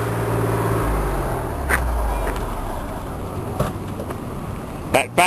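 A 1963 car engine runs at a stuck fast idle at an outdoor concours show, a steady low hum heard at moderate distance with brief bumps and clicks near the end.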